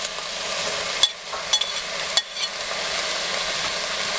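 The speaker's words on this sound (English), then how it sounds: "I'm gonna throw in some vegetables, and well, a vegetable and a fungus, some mushrooms and onions" Mushrooms and onions frying in a pan while camping in a U-Haul, a steady broadband sizzle with a few brief stirring clacks, close and moderately loud, no talking.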